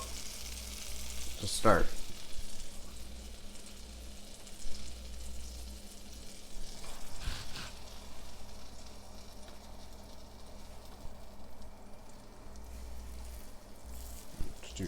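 Veal cutlets topped with prosciutto sizzle steadily in a hot pan, two at a time to avoid crowding, with a sharp burst of crackling as the meat goes in; someone talks briefly over the frying.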